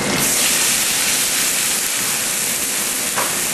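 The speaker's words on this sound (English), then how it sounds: "Chicken stock's going to steam it." Chicken stock poured into a hot pan with a jumbo scallop and vegetables, giving a loud, steady hiss of steam and sizzling that fills the whole moment without pause.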